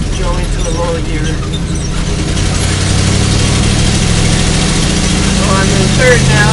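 A vehicle engine runs close and loud during a double-clutched downshift into a lower gear, idling steadily and then rising in revs about halfway through as a person talks over it.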